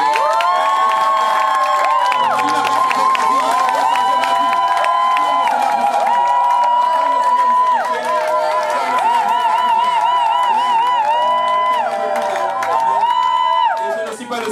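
A church congregation cheers and acclaims loudly and continuously, with shouts, whoops and excited voices overlapping. Sustained melodic vocal calls ring over the crowd noise.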